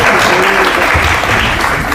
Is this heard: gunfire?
no